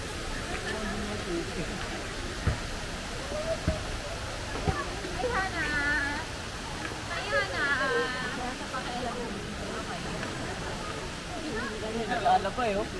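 The Hinulugang Taktak waterfall in Antipolo, Rizal, a steady broad rush of falling water beneath nearby chatter and voices of people calling out throughout.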